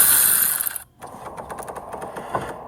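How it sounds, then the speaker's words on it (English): A ratchet works on 8mm radiator retention bolts during radiator removal on a 5.7 HEMI car, giving a run of quick, close mechanical clicks after a brief pause. "Just go ahead and get those out of the way, and then you should be able to drop your radiator after that."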